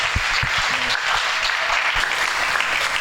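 A church congregation applauds during a sermon, a steady crackle of many hands clapping at moderate distance throughout, with a few louder claps near the start.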